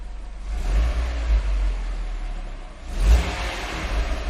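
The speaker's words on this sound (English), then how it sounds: "We're revving this engine, baby." A vehicle engine revs up in two rising surges with a steady low rumble between them, fairly close and loud, with no talking over it.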